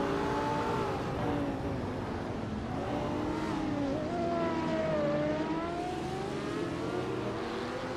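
Race cars start a race at Autopolis, their engines droning and rising in pitch together. Several motors overlap in a continuous roar that swells as they accelerate, with no talk.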